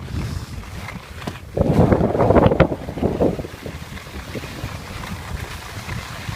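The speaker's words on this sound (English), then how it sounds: "There's a lot of wind resistance if you don't bend down" Wind rushes and buffets past the microphone while skiing fast at over 30 miles an hour, a loud roar surging for a couple of seconds above steady lower gusts.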